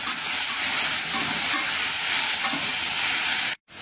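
Crushed green chillies and garlic sauté in a pan with a loud, steady sizzle and faint stirring, heard close and alone before cutting off abruptly at the end.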